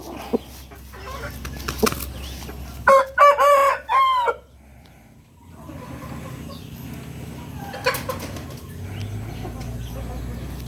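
A young Burmese fighting rooster crows once, loud and close, in a drawn-out call of several strained notes. Brief clucks and rustling come before and after, and someone speaks faintly nearby.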